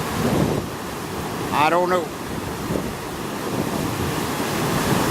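A rain-swollen brook runs off Moosilauke and under a bridge after a day and night of rain, a steady broadband rush mixed with wind buffeting the microphone, while a voice speaks briefly partway through.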